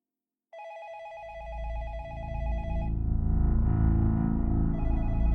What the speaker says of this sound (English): she heard her phone ring again